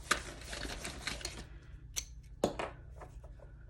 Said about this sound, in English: So I'm going to grab my X-Acto and just trim off this edge here.